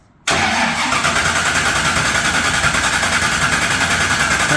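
A truck engine fires up abruptly and settles into a loud, rough, steady idle with a pulsing rumble, close and alone.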